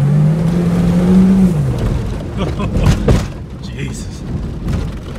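A Ford Super Duty truck engine is held wide open in neutral, a loud sustained roar that climbs and then falls away into rumbling, with a voice talking over it.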